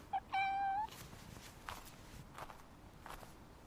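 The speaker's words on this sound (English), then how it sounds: "There's the cat! Come here, kitty!" A cat gives a short, clear meow near the start, followed by soft footsteps shuffling at a moderate distance in a quiet space.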